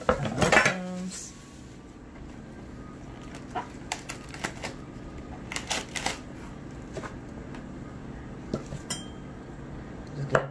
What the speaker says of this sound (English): Just give them a quick chop.